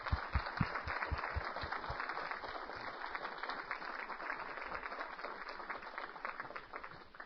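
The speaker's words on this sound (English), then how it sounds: "that applause was for you and for the foundation" Sustained audience applause at an Alcohol Foundation program in Albany, NY, a dense wash of many hands clapping steadily for about seven seconds before tapering slightly at the end.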